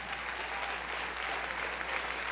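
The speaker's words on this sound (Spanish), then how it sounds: "Dale ese aplauso al Señor." A church congregation applauds during a sermon, a faint, steady wash of many hands clapping with a low constant hum underneath and no talk over it.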